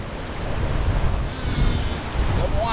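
Storm waves surge and crash along the Jamaican coast during a tropical storm, a continuous loud roar of surf mixed with gusting wind buffeting the microphone.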